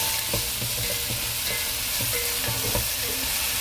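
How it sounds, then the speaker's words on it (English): Chopped onions sautéing in hot oil in a pan for an aloo methi dish, a steady close sizzle with occasional stirring scrapes and no voices. "once the oil is nice and hot, I am going to add in the chopped onions"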